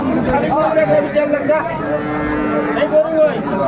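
Cows and calves mooing at the Aftabganj cattle market, several close, drawn-out lows rising over a crowd of voices and chatter.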